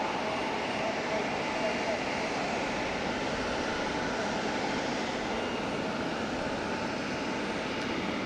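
A Hong Kong Express airliner taxis at Fukuoka Airport, its engines giving off a steady, broad roar. The sound holds at an even, fairly loud level throughout with no clear change in pitch.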